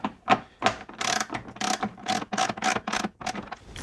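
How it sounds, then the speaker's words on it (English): A socket wrench with a 12mm socket tightens a bash plate screw on a Subaru Outback, giving a quick series of sharp ratcheting clicks in close succession, near and fairly quiet with no talking. "we're going to do that up the rest of the way with the 12mm socket on the socket wrench"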